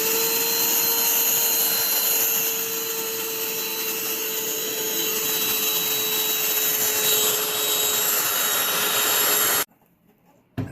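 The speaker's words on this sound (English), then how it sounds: "I'm gonna do a little vacuuming on here." A vacuum cleaner runs steadily at close range with a constant whining drone for about ten seconds, then cuts off abruptly into near silence.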